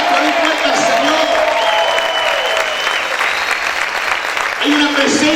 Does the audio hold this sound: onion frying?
no